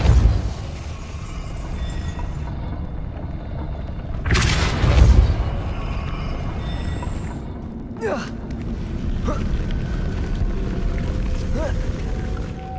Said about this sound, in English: Depulso should set this spinning.